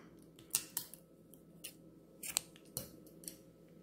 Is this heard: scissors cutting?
yes